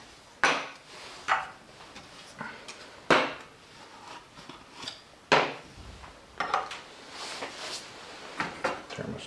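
A metal canteen cup set down on an Esbit-type alcohol burner stove, several sharp clanks and knocks of metal spaced a second or so apart, close up, with soft handling noises between them.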